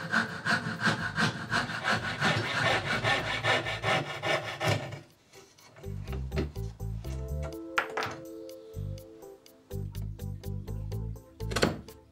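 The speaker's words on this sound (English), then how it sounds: "Cutting as close as I can to the line with a coping saw and finishing with a paring chisel" A coping saw cuts close to a marked line in wood for a small model Mercedes, with a steady rapid rasping stroke rhythm that pauses midway and then resumes in shorter bursts, a few light knocks in between.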